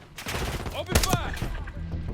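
Gunfire in the shooter game Call of Duty: Black Ops 6, a short burst of cracking shots mixed with game sounds and a voice, close and moderately loud over a busy background.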